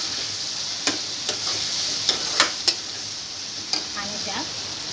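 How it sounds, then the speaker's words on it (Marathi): Turmeric is stirred into a sizzling pan of softened tomatoes, a steady frying hiss broken by several sharp spoon scrapes and taps against the pan. "हे हळद टाकून मिक्स करून घेऊया"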